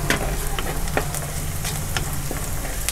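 Onions with two sprigs of curry leaves sizzle and crackle steadily in hot oil in a pan for a Tamil country chicken kulambu, with occasional stirring clicks and no talking.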